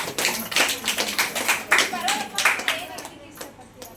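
Hands clap in a quick, steady rhythm, about four claps a second, close and moderately loud, with a voice murmuring faintly in the background.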